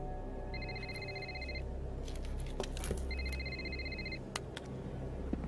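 A telephone rings in a dubbed action film, two bursts of electronic warbling tones separated by a short gap, close and clear over a steady low room hum, with small clicks and bumps around them.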